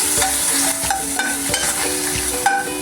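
Kimchi sizzling and being stirred in a hot pan, a dense frying hiss broken by repeated scraping strokes of a utensil, close and loud with no talk.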